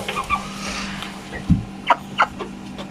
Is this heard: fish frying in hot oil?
no